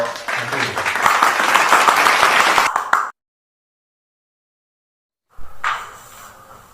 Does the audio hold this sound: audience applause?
yes